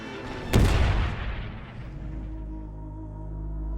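A battleship's guns fire a final salvo, one huge close boom that rolls into a long, heavy rumbling decay lasting several seconds.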